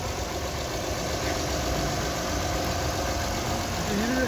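A car's engine idles steadily at an outdoor car market, a constant close rumbling drone with a slight knocking texture, even and unbroken throughout.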